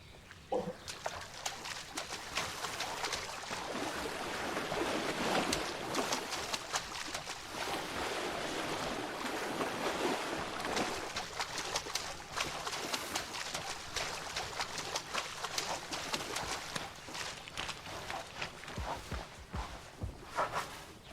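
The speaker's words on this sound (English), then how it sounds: "we really wanted to make sure that the audio adapts to the water depth. Yep. And so in shallow water, you hear like shallow splashes" An elephant in Planet Zoo wades through shallow and deep water, producing continuous sloshing splashes and heavy wading steps at moderate volume.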